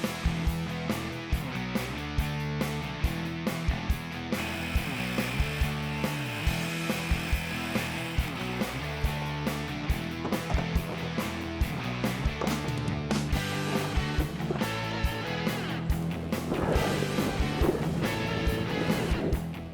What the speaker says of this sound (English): We're just drilling a lot of holes through here and just trying to find them.